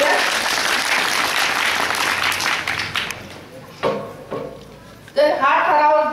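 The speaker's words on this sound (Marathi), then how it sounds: "टाळ्या वाजून आपण त्याचं स्वागत करूया" A village gram sabha crowd in Vithe, Akole claps loudly together for about three seconds, a dense close roar of hands that stops abruptly, followed by scattered knocks and a speaking voice.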